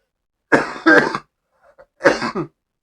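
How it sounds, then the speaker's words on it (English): A few harsh coughs close up, two strong bursts then a faint pause and another cough, loud and raspy with no talking. "I'm sorry, I've had this cough all day."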